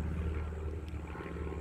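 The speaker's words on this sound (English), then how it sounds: "And there goes an airplane." Airplane flying overhead outdoors, a faint steady low droning rumble that holds evenly throughout with no other distinct sounds.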